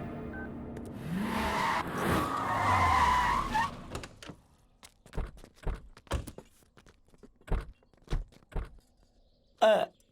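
A car skids and its tires squeal for a few seconds as it brakes to a stop, followed by a quieter stretch of separate thumps and footsteps, like doors and people getting out.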